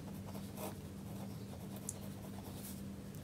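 Pen scratching on paper while math formulas for a circle are written out, soft and faint scribbling strokes with a few light taps over quiet background hiss.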